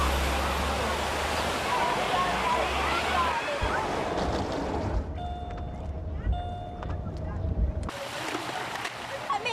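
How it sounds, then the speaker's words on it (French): Water gushes from opened fire hydrants on a New York street, a loud, continuous rushing spray with a deep rumble that drops away partway through as the scene shifts, and voices mixed in. "On ouvre les bouches d'incendie."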